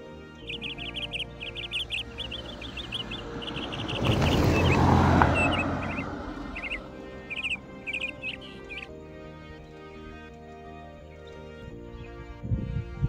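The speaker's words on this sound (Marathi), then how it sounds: "इथे बऱ्याच पक्ष्यांचे आवाज कानावर येत होते" Birds call and chirp in dense forest near Bamnoli, Satara, with repeated short tweets over a quiet background, briefly masked midway by a louder passing rumble.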